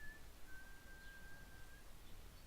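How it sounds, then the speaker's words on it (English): A single steady whistled melody line from the video game Broken Sword 5, an attempt at Ave Maria, holds one sustained tone for over a second over low background hiss, faint and alone with no talk. "So we need to whistle Ave Maria"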